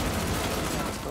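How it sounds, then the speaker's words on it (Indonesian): A brief, dense burst of rapid gunfire, loud and continuous, like an intense exchange of shots. "Baku tembak hingga ledakan pun terjadi."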